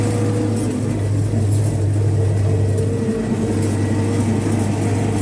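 A vehicle drives along on a farm trip with a trailer hauling soybeans, giving a steady low engine drone and road rumble throughout, fairly close and unbroken, with no voices.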